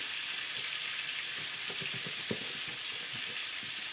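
Oyster mushrooms coated in seasoned chickpea flour fry in grapeseed oil with a steady, close sizzle and soft crackle, plus a few low knocks and rattles from a lidded pot being shaken.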